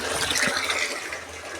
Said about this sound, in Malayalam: ഡ്രമ്മിൽ ഇതാ വെള്ളം ആയിക്കൊണ്ടിരിക്കുകയാണ്.